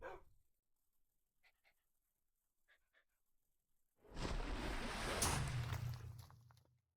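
Dogs in a modded survival video game, a few faint soft pants early on, then a loud burst of breathy, rushing panting for about three seconds before fading.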